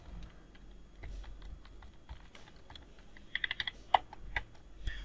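Quiet, scattered keystrokes on a computer keyboard while Python code is typed, with a short rapid run of clicks midway and a few sharper taps afterward, close but soft.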